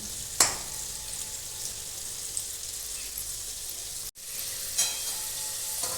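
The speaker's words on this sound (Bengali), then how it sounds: "কুমড়ো দেখুন প্রায় ভাজা হয়ে গেছে আর ভাজতে ভাজতে দেখুন সিদ্ধ হয়ে গেছে" Pumpkin and potatoes fry in hot oil with a steady, soft sizzle, broken by a few brief scrapes and clinks of stirring.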